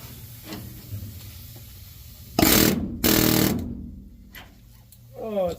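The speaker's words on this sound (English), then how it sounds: "put that air hammer on it, see if we can make some tracks" An air hammer rattles against the rusted shift tube of a 1961 single cab truck in two loud, harsh bursts, with quieter workshop noise, clanks and a brief voice around them.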